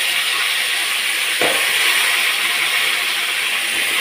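Washed vegetables hit hot oil for masala kare kulambu, giving a loud, steady hissing sizzle throughout with a brief soft thump as they drop in.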